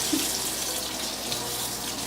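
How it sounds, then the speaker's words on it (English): Running tap water rinses a makeup brush at a sink, a steady close splashing stream throughout with no voices. "I'm gonna rinse this off"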